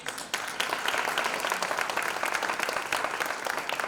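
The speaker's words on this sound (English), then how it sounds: "give them a round of applause, please" Audience applause for supporters at a women's resilience event, a dense steady wash of many hands clapping that swells after a brief soft start and holds loud throughout.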